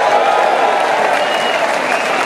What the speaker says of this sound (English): big round of applause to Cat Stevens